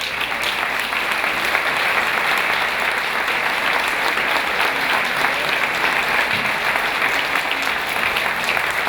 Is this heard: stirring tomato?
no